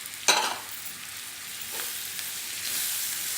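Onion and capsicum sauté in a hot pan with a broad, continuous sizzle, opening with a sharp clack of a spatula and a few softer stirring scrapes.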